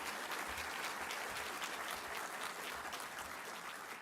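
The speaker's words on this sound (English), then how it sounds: "First round of applause." An audience at an evening book talk at Mount Vernon breaks into steady, sustained applause, a dense wash of clapping heard from within the room with no voices over it.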